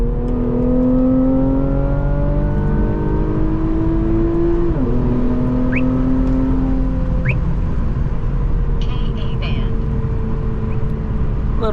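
Tuned Infiniti Q60 accelerating hard on a night drive, its engine note climbing steadily through the gears with a brief shift dip, loud and close from inside the cabin.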